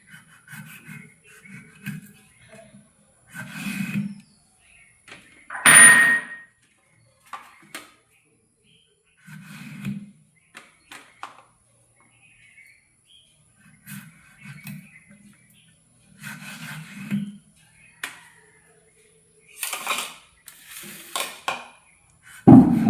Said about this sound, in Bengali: চলো আমগুলোকে আমি বটি দিয়েই ভালো করে কেটে নিচ্ছি